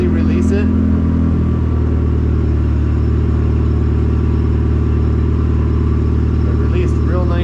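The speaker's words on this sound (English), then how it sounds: "Just kind of let that run for a minute while we got kind of a high idle with it warming up" A Mazda Miata engine runs at a high warm-up idle just after a clutch replacement, a loud, steady, close drone with a slight shift in tone early on and a voice speaking over it.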